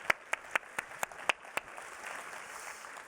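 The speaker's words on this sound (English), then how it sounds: "yes, round of applause." A handful of sharp, separate claps from an audience at a culinary panel discussion ring out across the first second and a half, then fade into quiet room tone.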